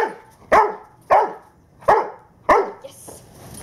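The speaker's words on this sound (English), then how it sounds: "Bark." A dog barks on command four times during protection training, at a steady pace, sharp and close, with short silences between the barks.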